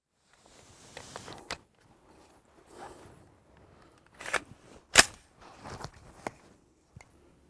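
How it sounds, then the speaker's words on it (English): Shots from a 7.62x39mm rifle firing handloaded Berry's 123-grain bullets over a chronograph: several sharp, separate reports spaced irregularly, the loudest near the middle, with quiet gaps between and no talk. "Let me show you the shots that I fired across the chronograph"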